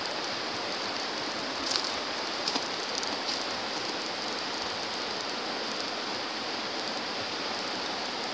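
A stream swollen by recent heavy rain rushes rapidly past, a loud, dense, continuous roar with a few faint higher clicks, and no talking.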